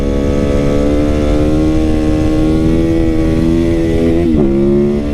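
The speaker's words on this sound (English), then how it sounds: "I'm in second gear, clutch up, middle finger, release the clutch and give it gas at the same time" A motorcycle in second gear revs and accelerates hard for a wheelie, its engine note climbing steadily, loud and close, then dipping briefly near the end.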